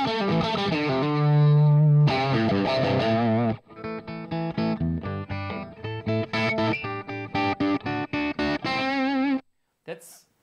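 An electric guitar runs through an amp's vintage channel in low gain mode, playing sustained chords and then a run of short, choppy strummed stabs with brief gaps, alone and close before stopping near the end.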